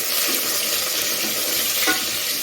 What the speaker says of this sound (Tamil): இதை போட்டு நல்லா ஒரு வதக்க வச்சுட்டு கொஞ்சம் தக்காளி போட்டுக்கலாம்